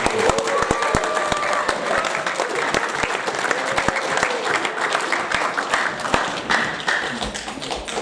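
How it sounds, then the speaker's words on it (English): Sustained applause from a school assembly crowd at Porirua College's final senior assembly, many hands clapping densely and steadily for the full stretch with no voices over it. "Could we give all those people a round of applause?"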